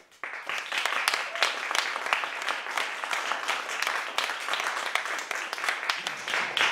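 Audience at a Muir Beach community candidates' meeting applauds, a steady patter of many hands clapping that starts abruptly after a moment of quiet and continues evenly, moderately loud.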